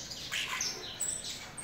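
Duck chicks in a nest in a backyard, a Carolina duck setup, giving faint, high, thin chirps and peeps in short bursts, close by with no voices over them.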